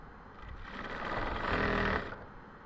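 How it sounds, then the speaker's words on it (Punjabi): A sewing machine stitching lace trim onto the edge of a dupatta, its motor whirring steadily and swelling louder toward the middle before easing off, close by with no talking. "ਹੁਣ ਆਪਾਂ ਫਿਰ ਸਲਾਈ ਇਧਰ ਨੂੰ ਸ਼ੁਰੂ ਕਰ ਦੇਣੀ ਹੈ ਕੰਨੀ ਕੰਨੀ ਤੇ ਸਲਾਈ ਲਾਉਣੀ ਸਟਾਰਟ ਕਰ ਦੇਣੀ ਹੈ"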